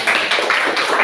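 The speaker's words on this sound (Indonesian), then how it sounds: "kita kasih aplaus" A classroom gives a short round of applause, a steady patter of many hands clapping together, close and fairly loud, lasting about a second with no talk.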